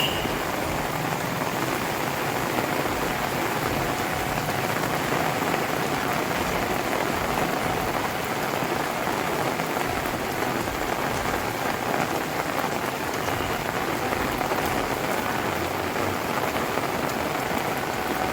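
Heavy monsoon rain pours down at Junagadh near Girnar, a dense, steady hiss of drops hitting surfaces that holds even and loud from start to finish, with no voices.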